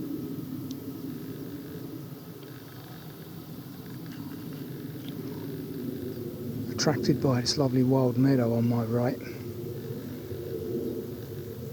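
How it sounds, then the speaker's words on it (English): A distant jet passes over a countryside circular walk near Wye in summer, a faint, steady low rumble in the background, with someone briefly speaking close by partway through. "Just a bit of jet noise in the background now"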